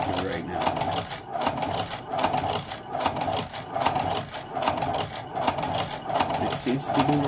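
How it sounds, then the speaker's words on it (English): A sewing machine stitches through 7 to 8 ounce leather, a steady run of rapid, even needle strokes sounding close and loud throughout, with a voice talking over it. "This is 7 to 8 ounce leather I'm sewing through right now."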